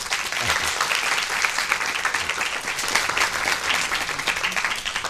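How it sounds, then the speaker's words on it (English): Warm audience applause in a television interview setting, dense clapping from many hands that stays loud and steady throughout, heard alone without talk. "deserves a big round of applause."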